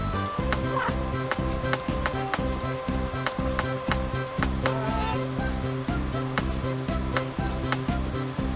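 A bird gobbles in the video game Chicken House, repeated fowl calls over a busy, rhythmic looping game soundtrack that plays steadily throughout.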